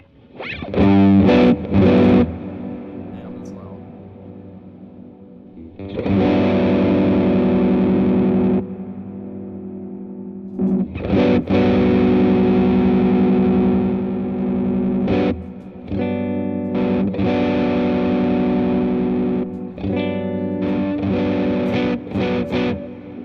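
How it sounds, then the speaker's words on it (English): An electric guitar played through a Zen Master overdrive pedal with a large hall reverb, ringing out sustained, gritty chords and notes in long phrases with short breaks, alone and close. "I think I'm going to use that Zen pedal. Zen Master."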